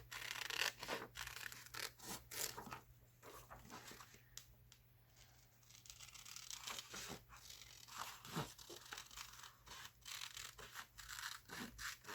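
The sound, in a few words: scissors cutting out a face from paper for a collage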